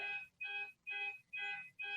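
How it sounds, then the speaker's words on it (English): An outdoor alarm beeps in five steady, evenly spaced pulses, each a buzzy electronic tone, moderately loud and heard alone. "It's an alarm going off outside."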